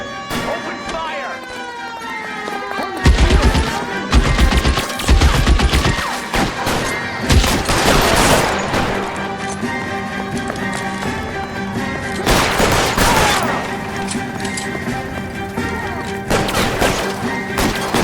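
Gunfire during a shootout in the game L.A. Noire, repeated loud shots and crashes mixed with siren-like wails, game music and voices over a busy, sustained din.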